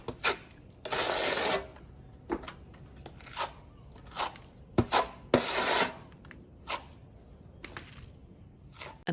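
A builder packs a concrete-cement mix into large holes in the wall of a 120-year-old fisherman's house, making loud scraping, gritty bursts at an irregular rhythm between quieter pauses.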